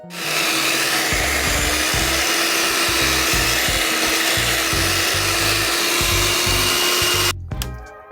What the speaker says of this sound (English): I'm going to go in with my hand mixer on medium speed